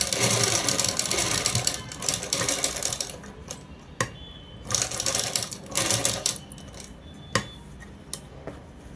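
Electric sewing machine running in bursts while stitching a child's lehenga blouse, with several short whirring runs separated by pauses and small clicks, close and fairly loud, no talking.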